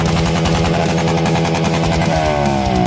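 Motorcycle engine with a modified aftermarket exhaust, a loud, close, continuous rough drone with a rise in pitch toward the end.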